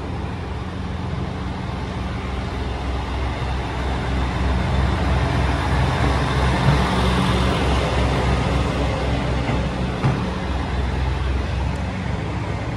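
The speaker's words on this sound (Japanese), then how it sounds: "亀山行きの列車が発車していきます。" A train bound for Kameyama pulling away from quiet Tsuge station, heard as a steady low rumble that swells slightly and holds at moderate volume, with no talk.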